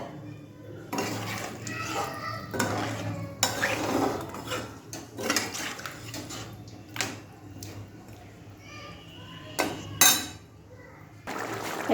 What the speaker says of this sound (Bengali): এবারে এই যে জলটা দিয়ে দেবো